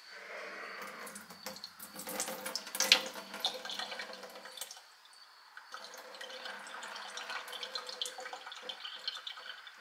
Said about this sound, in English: rinsing in cool water, pouring it off until the water runs clear